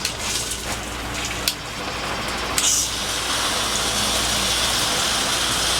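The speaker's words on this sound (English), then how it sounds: "that's your trickle for you know, your Navy shower type thing" Water from an Oxygenics RV showerhead on its trickle setting patters steadily in a small shower, a constant hiss with a few brief knocks and clunks early on.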